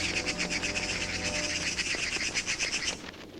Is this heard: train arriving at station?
no